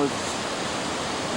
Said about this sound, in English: This is a creek running down with